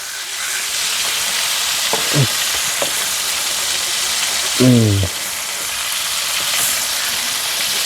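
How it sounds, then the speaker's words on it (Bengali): Katla fish weighing four kilograms frying in oil on a village clay stove, a steady broadband sizzle throughout with two brief low clanks or scrapes of a utensil partway through. "আমি রান্না করতেছি মাছ ভাজি করতেছি এটা কাতাল মাছ যার ওজন চার কেজি"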